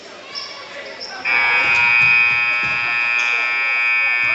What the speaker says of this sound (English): Inadvertent buzzer.